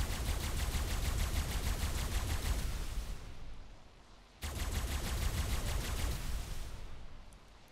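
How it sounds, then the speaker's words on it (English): Turrets in the ARK survival game fire on a base wall in two long, rapid bursts of automatic gunfire, loud and dense, separated by a short lull. "I will try to run in really fast before the turrets can shoot me."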